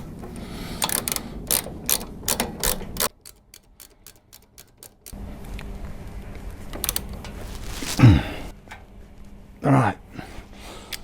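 A hand ratchet tightens the rear brake caliper bolts on a Honda VTX1300 motorbike during a brake pad change, fast runs of close, crisp clicks in bursts separated by pauses and a few knocks of metal.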